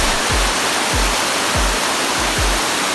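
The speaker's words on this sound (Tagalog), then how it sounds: "And eto na nga ang dulo ng ating 7th falls." Waterfall at the end of a series of falls in Alibeng, Sison, Pangasinan, a steady broadband roar of falling water heard close and loud, with soft low thumps recurring about every half second beneath it.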